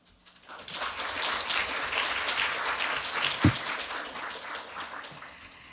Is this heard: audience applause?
yes